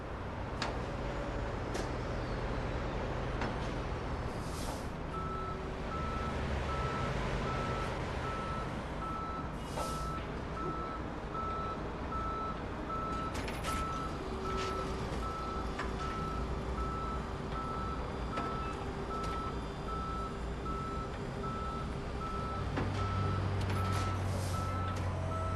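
Steady reversing beeps from a tow truck in a police patrol game, a regular repeating tone running the whole way over a continuous engine and traffic rumble.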